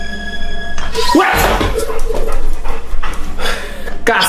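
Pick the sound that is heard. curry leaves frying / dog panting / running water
dog panting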